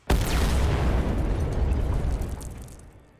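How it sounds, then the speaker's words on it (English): A grenade detonating at point-blank range in the shooter game Wolfenstein: The New Order, one sudden loud blast followed by a long rumbling roar that slowly fades over about three seconds, with no voices. "he pulls the pin on a grenade, so we just stand there staring at it and take the full force of it to the face"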